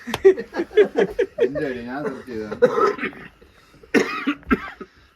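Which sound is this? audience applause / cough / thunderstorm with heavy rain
cough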